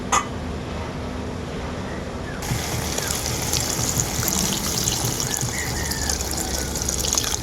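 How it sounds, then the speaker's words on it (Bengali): Water is poured into a pan of curry with poppy seed paste and bottle gourd, a steady trickling and splashing that turns louder and brighter partway through and runs continuously. "এখন এর মধ্যে দিয়ে দেব জল পরিমাণ মতো"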